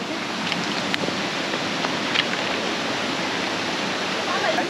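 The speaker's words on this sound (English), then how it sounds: "How is your first waterfall?" A waterfall in Tobago roars close by as a dense, steady wash of falling water that masks everything else, with faint voices barely audible beneath it.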